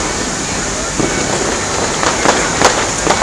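Fireworks burst over downtown Indianapolis at a 2013 Fourth of July show on a muggy night, a steady roar broken by several sharp cracks that grow denser toward the end, with nearby voices faintly under the din.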